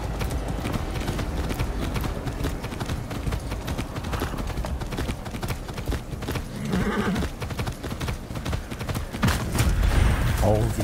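A horse's hooves clip-clop steadily in the video game Far Cry 6, a rapid, continuous gallop rhythm with game sounds behind it and a brief whinny-like sound near the end.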